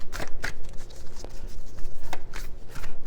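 A deck of tarot cards with a fabric-like feel is shuffled close up, giving rapid riffling rustles and soft slaps in an uneven rhythm through the whole stretch with no talking.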